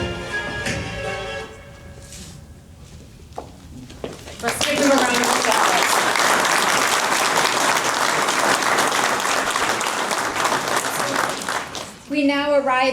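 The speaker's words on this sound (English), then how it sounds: "Let's give them a round of applause." A crowd at a building dedication ceremony for a research and innovation center in downtown Aiken breaks into loud, sustained applause after a spoken introduction. The clapping runs about eight seconds before fading back into talk.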